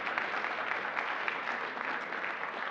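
Audience clapping steadily at a national finals stage event, a dense, even patter of applause heard alone at moderate distance.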